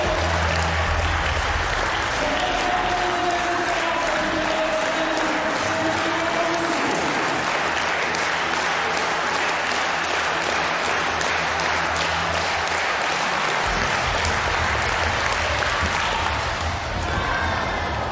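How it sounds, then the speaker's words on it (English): A stadium crowd claps in a fast, steady rhythm for a high jump attempt at an athletics meeting. The applause is loud and sustained throughout, with crowd noise and faint announcer talk underneath. "Portillo getting the crowd hyped up. Fast-paced clap."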